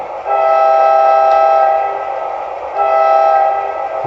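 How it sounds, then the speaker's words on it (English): A loud BlueRail model train horn sounds twice, one long blast and then a shorter one, over a steady background hum. "And here's our horn."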